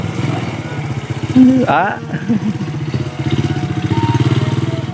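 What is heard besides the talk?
motorcycle riding downhill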